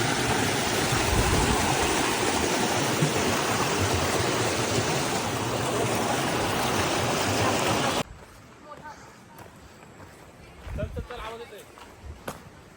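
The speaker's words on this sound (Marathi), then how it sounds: "आला पाण्याचा आवाज येते" Water rushing near a hidden waterfall at Murud, a loud, broad continuous roar heard close for most of the clip before cutting abruptly to quieter surroundings where a voice speaks.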